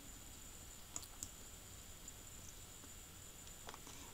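Computer mouse clicks while working in an Excel spreadsheet, a few faint isolated clicks near one and four seconds over a quiet background hum.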